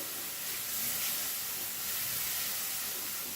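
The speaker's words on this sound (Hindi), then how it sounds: "इसमें थोड़ा सा डालडा घी भी ऐड करूँगी ताकि अच्छी शाइन आ जाए मसाले में, 1 चम्मच। फिर से भूनते हैं इसको।" Spiced masala frying in a pan after a spoonful of Dalda ghee is added, a steady close sizzling hiss with no talking.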